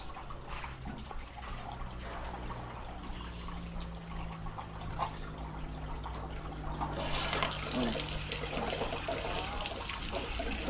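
Water runs from a newly opened water line, a steady low trickle and gush that grows louder and hissier partway through, with no talk over it.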